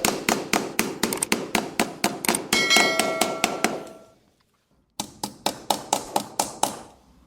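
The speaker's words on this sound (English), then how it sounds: "So, with 2 headless nails, I'm going to attach the strip to the wall." Headless nails are hammered to fix a decorative strip to a living-room wall: a quick regular run of sharp metallic taps and clangs, a brief ringing pause, then another rapid series of blows.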